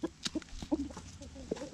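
Quail clucking in a backyard pen alongside hens, a run of soft, close, irregular clucks and chirps over a low steady background hum.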